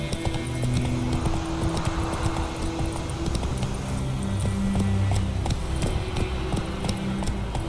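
Horse galloping in the video game The Witcher 3, steady rapid clip-clop hoofbeats running throughout over a continuous game ambience with faint music tones.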